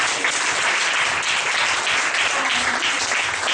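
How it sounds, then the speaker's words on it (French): Applause from a church congregation during a 2013 testimony service, a dense steady wash of clapping hands filling the room, loud and continuous throughout. "On acclame le Seigneur pour lui."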